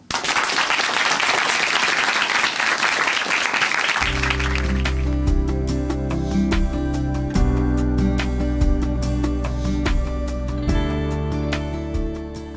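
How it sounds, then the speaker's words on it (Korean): Loud audience applause welcomes a guest to the stage at a Korean Christian church broadcast program, steady clapping for about four seconds before instrumental music takes over. "박수로 모십니다."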